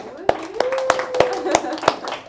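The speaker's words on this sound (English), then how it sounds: "let's get a round of applause for the ladies" A small audience at a motivational speech claps for the ladies, giving a handful of sparse, separate handclaps with a voice heard over them.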